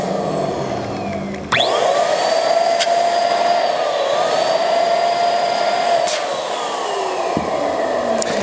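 Electric air pump inflating a balloon for a 4th of July balloon centerpiece, a loud steady whine that starts abruptly, holds for several seconds, then drops slightly near the end with a brief squeak.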